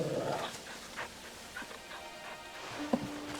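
Torgal, the dog companion in the game Final Fantasy XVI, gives faint, scattered whimpers and panting sounds, ending in one short, sharper yelp, all set against a low game backdrop with no talking.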